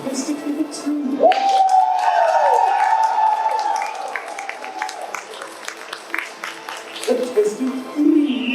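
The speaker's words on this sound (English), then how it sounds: "I want to hear only the loudest applause" A convention crowd at a voice tournament cheers for a contestant, with a long sustained whoop and shouting over scattered clapping, a lull in the middle and a fresh burst of cheering at the close.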